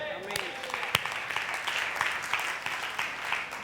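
A church congregation at a Sunday service claps together, a dense wash of hand claps at moderate distance that carries on steadily, with a voice briefly heard at the start.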